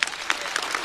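Applause from a studio audience at a stand-up comedy taping, a dense, steady wash of clapping with a few sharper bursts, heard alone without voices.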